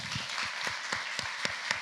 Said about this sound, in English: And keep clapping for our beautiful guests, Sonny and Catherine.